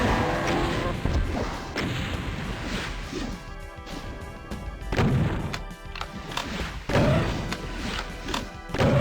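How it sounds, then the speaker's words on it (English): Rockets blasting two barons in DOOM on PS5, a barrage of loud explosive crashes and thuds in repeated bursts, with whooshing launches between impacts and no talking. "Dump more rockets into them."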